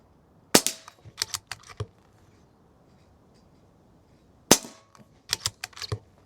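A PCP air rifle fires pellets in two close, sharp cracks a few seconds apart, each followed by a cluster of small clicks and rattles from the rifle being handled and reloaded. There is no voice.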